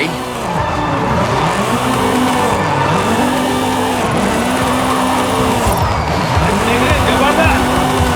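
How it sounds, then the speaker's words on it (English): A car drifts down a runway in Forza Horizon 5, engine revving in repeated rising and falling sweeps while tires squeal loudly and continuously, with a voice talking over it. "So just drift it down the runway"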